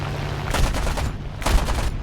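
Aircraft guns on a P-38L fighter firing at long range in War Thunder, two short bursts of rapid gunfire over a steady droning engine roar, loud and close.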